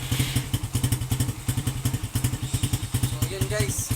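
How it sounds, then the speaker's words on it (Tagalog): A motorcycle engine warms up on a cold morning with a close, steady, rhythmic low putter of regular thumping beats and some mechanical clatter, holding an even idle throughout. "kung paano painitin ang ating motor sa umaga"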